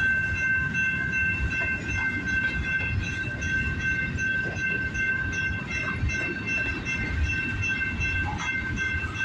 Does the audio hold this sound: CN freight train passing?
yes